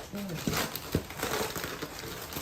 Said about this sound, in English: I can't find the scissors, so just rip it.